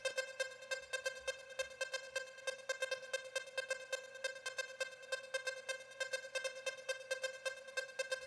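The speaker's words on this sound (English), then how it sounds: "It's the ARP Odyssey, but I've frozen it." An ARP Odyssey synth on its Curried preset repeats one frozen note as a steady, pulsing arpeggio with delay and a slight tremolo-like wobble. It plays alone and evenly throughout, with no voices.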